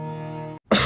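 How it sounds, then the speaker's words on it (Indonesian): A single short cough bursts out right after a steady tonal musical sound cuts off, brief and close. "Oh, batuk."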